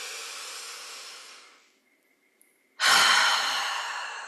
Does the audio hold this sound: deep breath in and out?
yes